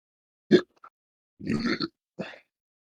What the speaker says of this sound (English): No, I'm just burping.